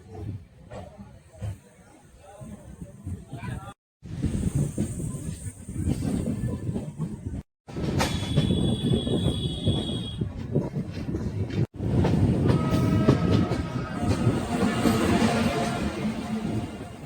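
A Danapur–Jogbani Intercity Express with LHB coaches rolls along, a steady loud rumble and hiss broken by brief gaps, with faint chatter in the background.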